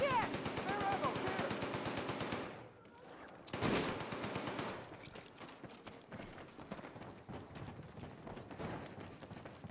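Rapid bursts of automatic gunfire in Battlefield 6 rattle in quick repeated volleys, pausing briefly, then continue as scattered shots with some movement noise.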